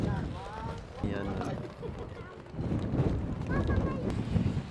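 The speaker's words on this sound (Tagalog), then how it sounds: "Lakas ang hangin." Strong wind buffets the microphone in rumbling gusts near the seaside in Ilocos Norte while people talk nearby, with some higher whistling tones.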